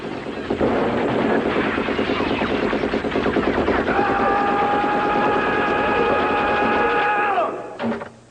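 A 1985 Rambo toy machine pistol set to its noise mode lets out a loud, continuous electronic rattling burst for about seven seconds, with warbling tones toward the end before it cuts off, close and with no talking.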